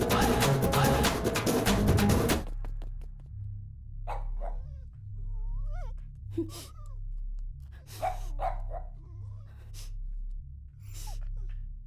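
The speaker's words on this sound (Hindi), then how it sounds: "जब भौंकने बोला था तब नहीं भौंका, अब भौंक रहा है।" A dog barking in short, scattered bursts and yelps nearby after a loud noisy opening, with a steady low hum underneath.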